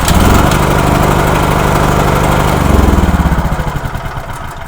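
A car engine, running on supercapacitors in place of its battery with voltage sagging to about 6.4 volts, cranks with a loud steady whir and then catches, settling into a pulsing rumble.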